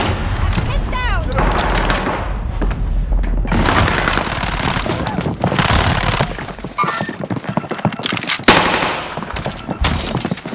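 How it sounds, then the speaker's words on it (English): Dense gunfire from Call of Duty Warzone on Rebirth Island fills the scene, with rapid automatic bursts, booming explosions and repeated shots layered over game effects almost without pause. "Taking shots."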